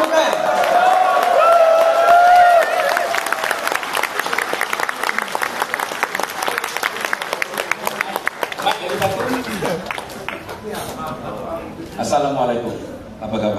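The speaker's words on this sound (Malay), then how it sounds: "Berikan tepukan." Audience at a motivational leadership event breaks into clapping and cheering, with a voice calling out over it at first, then dense rhythmic applause that thins out as talk resumes.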